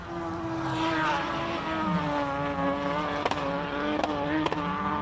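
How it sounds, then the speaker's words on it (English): Race car engine misfiring at a hillclimb, a loud continuous drone with sharp stutters and cut-outs breaking the note, no voices heard. "I thought it might have been the rev limit, but I think you're right, it's a misfire"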